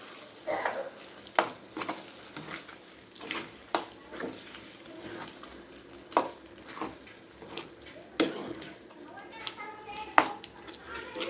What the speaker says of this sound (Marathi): भाजी, वाटाणे, फ्लावर आणि बटाटा मस्तपैकी मॅश करून घ्यायची.